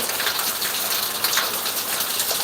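Steady, dense rainfall roars as a continuous hiss, loud and close, with no pauses or voices.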